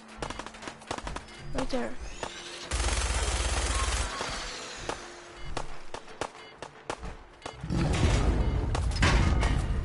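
Bursts of machine-gun fire and single shots in the Fallout 4 video game, loud and close and coming in uneven volleys, with someone briefly speaking between them.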